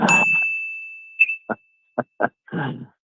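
A single bright bell ding rings out and sustains as a clear, steady tone, followed by a few short knocks and rustles nearby.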